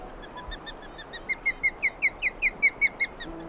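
Osprey calls near a nest by a busy highway and railroad in early July, a steady run of about a dozen sharp, whistled chirps rising in strength over a few seconds, fairly clear and close.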